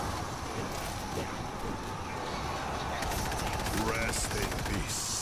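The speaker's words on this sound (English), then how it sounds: "We're hearing gunfire from the river." Rapid gunfire crackles in bursts in the zombie shooter game World War Z, over a windy, noisy background, with machine-gun-like rattles growing denser toward the end.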